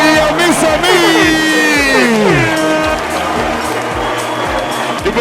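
A studio audience applauds for a performer called Mr. Mix on a variety show, steady clapping and crowd noise filling the scene while a host's voice and musical tones ring over it.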